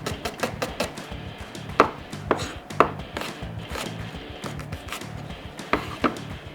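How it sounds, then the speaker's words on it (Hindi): Onions being sliced on a board for Nizami dum ka murgh, with quick, steady knife chops in an even rhythm and a few sharper, louder strikes, close up and with no talking. "2 अनियंस को मैं प्रॉपर तरीके से इस पर स्लाइस करके ऐड करूँगा"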